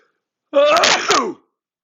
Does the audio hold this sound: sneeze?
yes